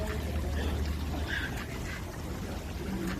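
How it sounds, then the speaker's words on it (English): Running water from a small artificial fountain in an outdoor garden display on the National Mall in Washington, DC: a steady, close pouring and splashing wash, continuous and fairly loud, with faint background sounds. "the sound of running water is always so nice"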